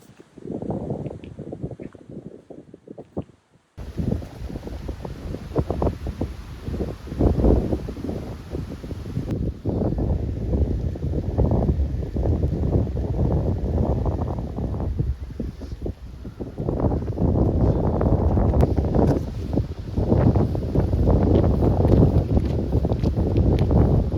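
Steady wind buffeting the microphone outdoors in cold, wet weather, a low rumbling roar that drops briefly near the start and then continues loud throughout.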